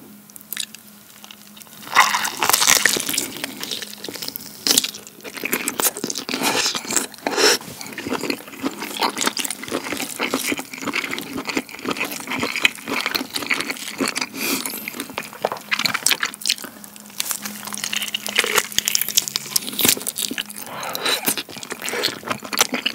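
A whole squid dipped in a soy, vinegar and wasabi sauce is eaten up close, with repeated wet bites, squishy chewing and smacking that carry on throughout.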